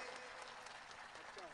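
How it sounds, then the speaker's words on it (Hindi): Audience applause at a Hindi poetry recital (kavi sammelan) held at a market: brief, faint crowd clapping with a dense patter, partly under a speaking voice. "एक बार जोरदार तालियां बजाइए"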